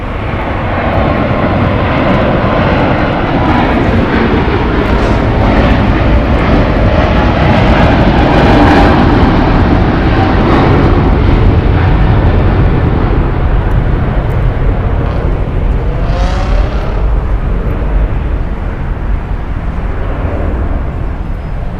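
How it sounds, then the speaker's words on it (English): A seven-year-old Qatar Cargo Boeing 777 freighter takes off, its loud jet roar a steady, broad rumble that swells slightly midway and holds without pause. "We're going to have Qatar Cargo taking off here, flight 58, going to LGG. It's a Boeing 777 freighter"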